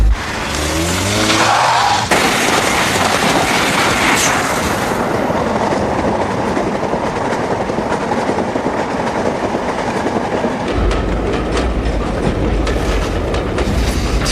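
British Rail passenger train on the Manchester to Leeds line rolling past, a loud, steady broadband roar of wheels and carriages with faint rhythmic clatter, a deep rumble rising near the end, no voices.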